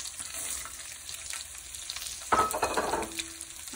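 Walnuts, pistachios and pumpkin seeds sizzle in a pan over a low flame, a soft steady frying hiss broken by a louder burst of stirring and scraping near the end.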